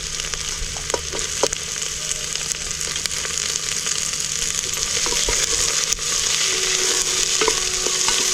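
Capsicum and mixed vegetables sizzle steadily in a hot pan for pav bhaji, a continuous close frying hiss broken by occasional clicks and scrapes of stirring, with no talking.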